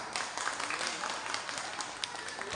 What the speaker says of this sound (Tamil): ஆண்கள் மட்டும் கைத்தட்டுவோம், ஆண்கள் மட்டும்.